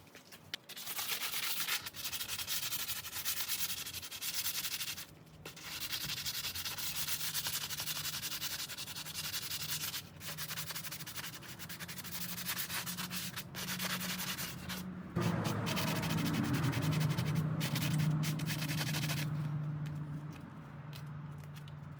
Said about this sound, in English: the sander worked a lot better than the scrubber